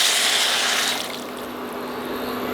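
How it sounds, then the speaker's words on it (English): Water pours steadily into a cooking pot with a bright rushing splash that eases after a second into a softer, continuous trickle, close by with no voices. "fill 1 glass of water"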